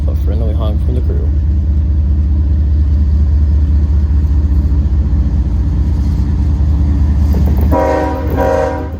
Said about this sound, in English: Next up is the westbound intermodal, throttling up and leaving town with a friendly honk from the crew.